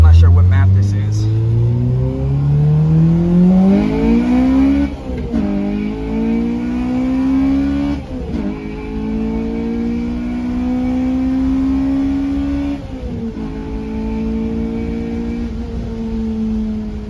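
A Honda K20A2 engine swapped into a Mitsubishi Eclipse revs up hard through several gear pulls, loud and close from inside the car, each climb breaking at a shift before rising again.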